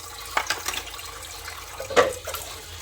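Water pouring from a tap into a freshly painted container, a steady splashing stream with a couple of louder gushes, close by and without speech.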